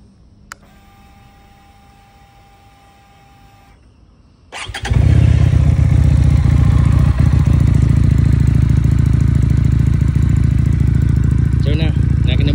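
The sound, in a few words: motorcycle engine starting and running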